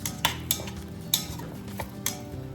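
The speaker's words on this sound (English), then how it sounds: "Give those potatoes a little stir" Metal utensil scraping and knocking against a pot while roast potatoes are stirred, several sharp clinks at irregular intervals over a low background hum.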